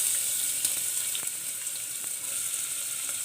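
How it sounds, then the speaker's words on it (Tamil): Cinnamon, cloves and cardamom fry in hot oil with a steady, close sizzle and crackle that holds evenly throughout, with a few faint pops and no voices. "தேவையான பட்டை, கிராம்பு, ஏலக்காய் இதெல்லாம் போட்டுக்கிறோம். அது பொரிஞ்சதுக்கப்புறம் ஆனியன்"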